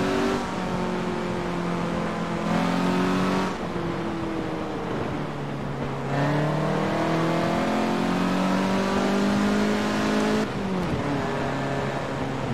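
A 1975 Honda RS engine in Forza Horizon revs hard and continuously, its pitch climbing in repeated rising sweeps as it shifts through gears, loud and close.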